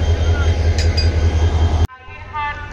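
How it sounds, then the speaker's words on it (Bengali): Loud low rumble and clanking of the Meghna Express at a station in Chittagong while its locomotive is coupled, then an abrupt drop to quieter station ambience with faint voices. "এখন এই ট্রেনের ইঞ্জিন লাগানো হচ্ছে"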